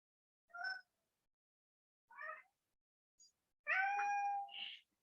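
A pet cat meows several times indoors: two short calls, a tiny chirp, then one long drawn-out meow, close and clear against silence.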